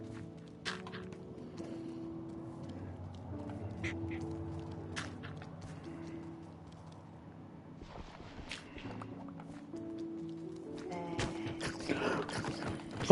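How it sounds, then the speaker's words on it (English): Duck quacks in Minecraft sound as a few short, faint calls over steady game music, with soft footstep-like clicks and a busier burst of noise near the end. "Hello, duck."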